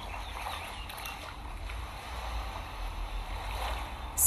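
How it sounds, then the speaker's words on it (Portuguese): Quiet beach ambience with a steady low wash of ocean waves rolling in, faint and continuous, with a slight swell toward the end and no voices. "Estou na praia."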